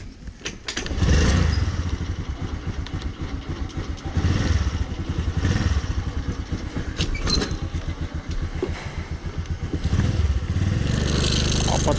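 A Honda Dio scooter is started by kick or by hand after its self-start fails, with repeated cranking bursts and sputtering engine revs that rise and fall before settling into a running idle.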